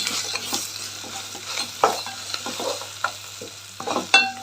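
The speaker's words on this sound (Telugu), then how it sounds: "కొబ్బరి ఎక్కువ వేగాల్సిన అవసరం మనకి తక్కువ వేగితేనే బాగుంటుంది" Sliced coconut fries in a pan for a coconut chutney, giving a soft, steady sizzle broken by repeated clinks and scrapes of a spoon stirring, close and without any talk.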